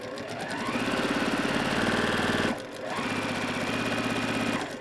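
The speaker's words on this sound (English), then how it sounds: "And I'm going to just stitch. I'm going to stitch a smidge below 2 on my setting." A sewing machine stitches quilt pieces at a stitch length just under 2, whirring in a fast, steady run that stops briefly midway and then resumes, close and loud, with no talking.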